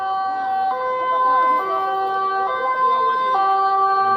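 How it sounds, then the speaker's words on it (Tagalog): An ambulance siren wails continuously in stepped two-tone cycles, loud and fairly close, with traffic rumble underneath, heard amid a crowd gathering at The Hague. "May ambulansya na."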